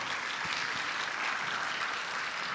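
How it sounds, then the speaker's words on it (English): A crowd claps steadily, a dense patter of applause heard throughout at moderate volume without any talking over it. "can you all please offer yourself a big clap"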